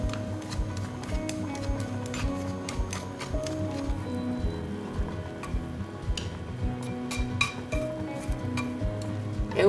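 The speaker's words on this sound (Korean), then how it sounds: "요 양파는 아삭한 기가 남아있게 볶아주세요." Sliced onion stir-fried in a pan for a chicken noodle soup topping, a steady low sizzle under repeated sharp clicks and scrapes of a utensil against the pan, close and continuous.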